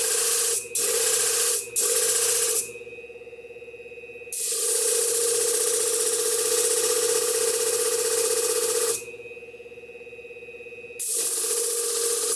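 Vintage Vortex shears are worked against an abrasive sharpening surface, giving a steady hissing rasp in long strokes broken by short pauses and two quieter gaps.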